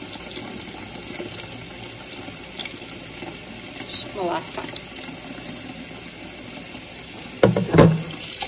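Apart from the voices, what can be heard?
cold tap water poured into Zojirushi rice cooker pot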